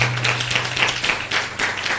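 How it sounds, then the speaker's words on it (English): A small audience claps in a quick, brisk patter for about two seconds, the claps fairly close and even in loudness. "So kind of a clap for Martha."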